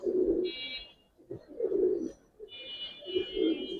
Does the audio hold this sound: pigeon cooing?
yes